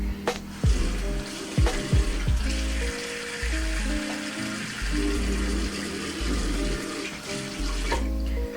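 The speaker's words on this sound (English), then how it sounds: "for now, I'm just gonna wet my face" A bathroom tap runs steadily while someone wets their face before a safety razor shave, water splashing and gurgling into the sink with brief bursts of heavier flow, close and continuous without any talking.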